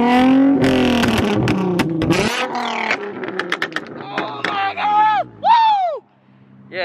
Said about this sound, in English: I heard this exhaust, it sounds pretty lit. So go ahead and give me a few revs.